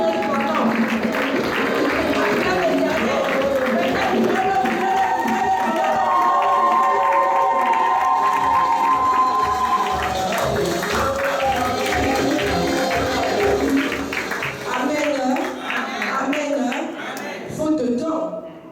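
A church congregation cheers and claps to acclaim Jesus, a loud crowd of voices and hand claps sustained for most of the stretch under singing and shouting, fading near the end.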